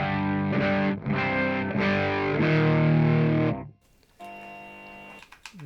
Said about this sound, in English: That was just the chorus.